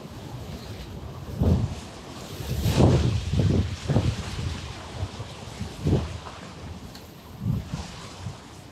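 Gusts of wind buffet the microphone outdoors at a fishing spot, low rumbling bursts rising and falling irregularly over a steady breezy hiss, close and moderately loud, with no talk.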